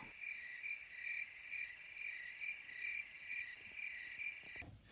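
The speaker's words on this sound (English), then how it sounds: "listen to the tree frogs" Tree frogs call in a steady, pulsing chorus of high trills, repeating rhythmically at a moderate distance in a quiet night setting in the Maine woods.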